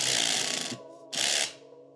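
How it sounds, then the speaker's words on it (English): An Allen key tightens bolts on the pitman arm of a drift kart's front steering assembly, giving two short bursts of close, raspy metal clicking split by a brief pause. "go ahead and fasten the Allen bolts to secure the pitman arm"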